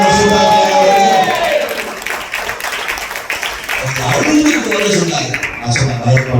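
A church congregation at a Resurrection Day service breaks into loud applause mixed with cheers, clapping fading under a preacher's amplified voice before swelling again.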